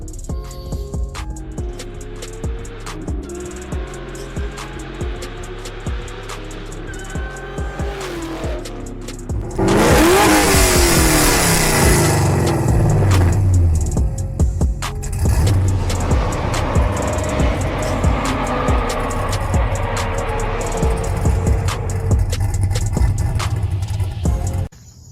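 A car engine cold-starts with a loud burst partway through, then idles and revs in strong surges, with squeal-like harsh texture and steady background engine noise throughout.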